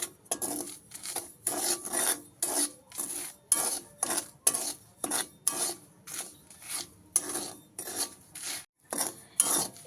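Salt and dried chili being stirred in a hot wok over a low flame: a steady run of close, rhythmic rasping scrapes of spatula on metal, about two strokes a second, with no talk.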